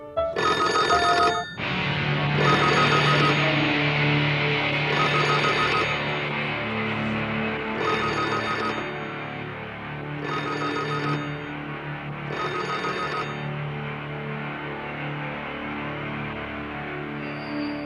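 A telephone rings in about six evenly spaced bursts of bright, trilling bell, loud at first and slightly softer later, with nothing else heard.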